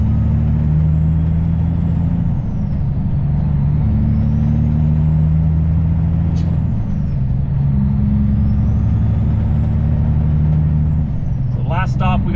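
A truck cruises down a highway into a strong headwind. A steady, loud low engine drone and road rumble run throughout, with wind noise overlaid and a brief clatter near the end.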